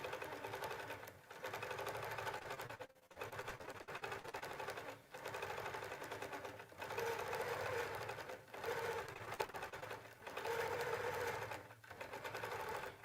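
A Q'nique 19 quilting machine stitches at 14 stitches per inch, its rapid needle chatter coming in repeated bursts of a second or two separated by short pauses, close and fairly quiet.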